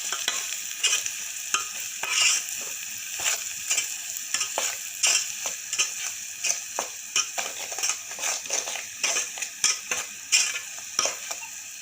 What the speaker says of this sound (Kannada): ಈಗ ಇದನ್ನು ಮಿಕ್ಸ್ ಮಾಡ್ಕೊಳಮ್ರಿ.